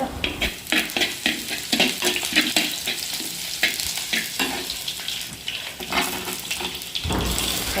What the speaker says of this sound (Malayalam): ചൂടാവുമ്പോൾ വെളുത്തുള്ളി ഇഞ്ചി ചതച്ചതിട്ട് മൂപ്പിച്ചെടുത്ത്